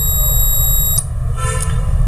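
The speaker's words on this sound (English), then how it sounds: "my relay turns on as well as buzzer turns on" An electronic buzzer on a temperature monitoring controller sounds in bursts of high, piercing tone alongside a relay, over a steady low hum, with brief changes in pitch partway through.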